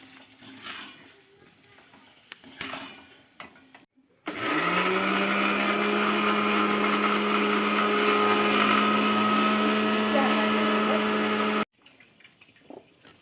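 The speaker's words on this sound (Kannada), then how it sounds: "ಒಬ್ಬರು ಮಿಕ್ಸಿ ಹಾಕತ್ತಾರೆ" An electric mixer grinder whirs loudly at a steady pitch for several seconds, grinding pani puri water in a busy home kitchen, preceded and followed by quieter background clatter.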